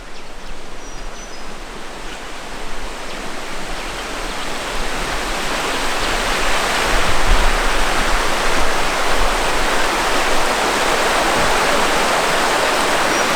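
A river flows beside a campsite, a steady broadband rush close by that swells slightly in loudness over the stretch, with no talk.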